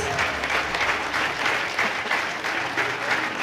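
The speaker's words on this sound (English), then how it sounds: "Can we have a huge round of applause for these little ones, please?" Audience applause fills the hall after a primary-school children's stage musical of The Little Mermaid, a steady, dense clapping crowd sustained throughout at even loudness.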